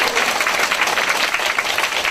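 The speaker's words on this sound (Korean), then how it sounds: "박수 한번 쳐야 되는데?" Audience applause at a cancer seminar in Korea, a steady, dense wash of many hands clapping close and loud, continuous for the whole stretch with no voices over it.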